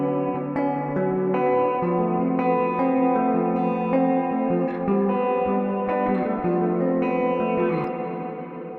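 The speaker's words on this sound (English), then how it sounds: "That's echo." Dense, sustained musical passage drenched in an echo effect from a reverb plugin, with closely spaced repeats smearing the notes into a continuous wash at steady loudness.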